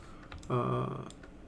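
Computer keyboard keys pressed while modeling in Blender, a few soft, faint clicks and taps around a brief louder burst, with no voice.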